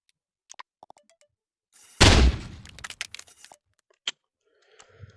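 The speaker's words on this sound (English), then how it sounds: "we have a fully working rocket launcher in Rec Room" A rocket launcher fires in the video game Rec Room, one loud booming blast with a sharp onset that rumbles and crackles as it fades over about a second, framed by small scattered clicks and taps before and after.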